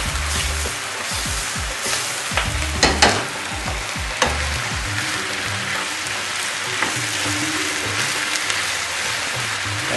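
Sag aloo with spinach and potatoes fries and steams in a pan, giving a constant hiss broken by scraping and clattering as the food is flipped, close and without talk.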